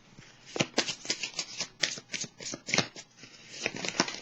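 Tarot cards being shuffled and drawn by hand at close range: a quick, uneven run of crisp riffling flicks and slaps that repeats without pause and has no voices over it.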